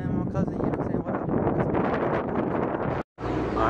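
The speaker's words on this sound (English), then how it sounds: "It's kind of windy right now" Strong wind buffets the microphone outdoors in a store parking area, a loud continuous rumble that runs steadily for several seconds before a brief dropout and then resumes.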